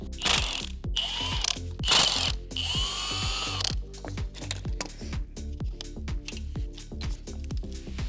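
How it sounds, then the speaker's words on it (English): A ratchet wrench removes the ground wire from an engine starter in a cramped, hose-filled engine bay, producing rapid metallic clicking in repeated close, loud bursts with short pauses between strokes and no talking. "now we're just gonna remove the ground wire from the starter"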